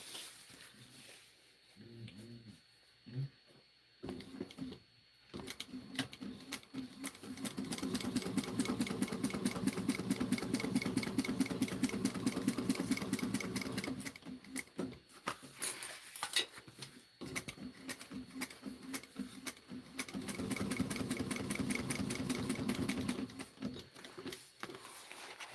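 A sewing machine stitches through fabric in several runs of rapid, even needle chatter, stopping and restarting between passes, close and moderately quiet with handling noise in the pauses.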